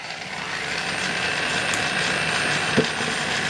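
A RoboTwist electric jar opener grinding away on a stuck jar lid, a steady whirring motor drone with a faint ratcheting texture and one brief knock near the end, heard up close.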